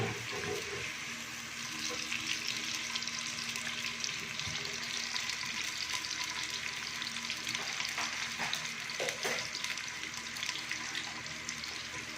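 One normal-sized onion fries in oil in a pan, a steady, close sizzling hiss that carries on unbroken, with a few faint clinks and stirring scrapes now and then.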